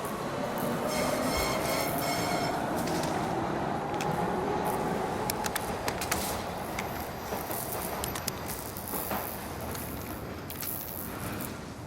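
A subway train in the video game Warzone rolls along with a continuous rumbling roar, rattling and occasional metallic squeals, steady throughout with no talking.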